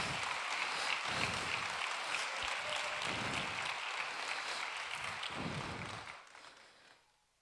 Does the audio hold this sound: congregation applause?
yes